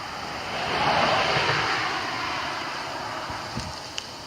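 Steady wind blows outdoors at night at a skywatching livestream setup, a broad rushing noise that swells early and then holds at a fairly even level, with a couple of faint clicks near the end and no talking.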